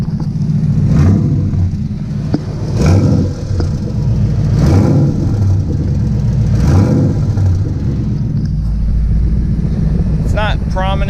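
Idling 2012 Ford Mustang Boss 302 with an exhaust leak, a steady close engine rumble carrying a light ticking, punctuated by a few brief revs, while someone talks over it.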